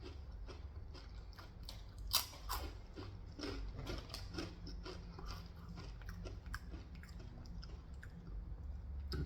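Crunchy Takis rolled tortilla chips being chewed up close, a quiet steady stream of crisp crunches and bites with no talking.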